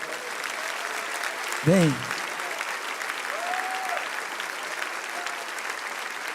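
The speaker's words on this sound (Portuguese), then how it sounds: "Vamos aplaudir o Senhor, igreja." A church congregation applauds throughout a worship service, a steady wash of many hands clapping with brief voices and a short tonal sound rising over it.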